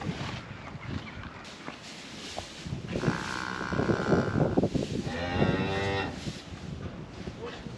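Cattle on a working farm mooing, two long, loud lowing calls in quick succession, heard at moderate distance over quiet outdoor background noise.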